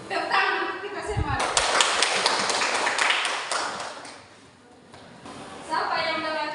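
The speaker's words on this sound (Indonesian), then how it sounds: "Tepuk tangan untuk kita semua." Students in a high school classroom at SMA Negeri 1 Raijua clap their hands in a lively burst lasting a few seconds, with a teacher's voice speaking before and after.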